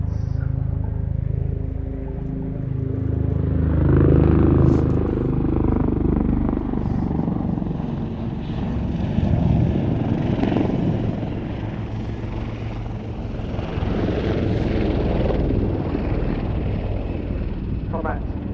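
Military helicopters in a flying display at an air show, rotors thumping and roaring overhead, loud and steady, swelling and easing as the aircraft pass, with a crowd murmuring faintly beneath.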